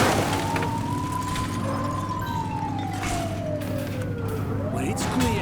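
A police cruiser siren in The Precinct video game, a loud wailing tone sweeping slowly up and down over steady engine and street noise, close and continuous throughout.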